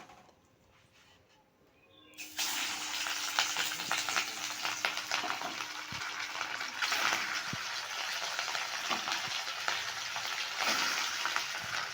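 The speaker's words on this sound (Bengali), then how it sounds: "এরপর আমরা একে একে মাছের টুকরোগুলো কড়াইয়ের মধ্যে দিয়ে দিলাম" Rohu fish pieces drop into hot oil in a wok for a rohu curry with vegetables, setting off loud, steady sizzling and spattering after a quieter opening, continuing close and unbroken.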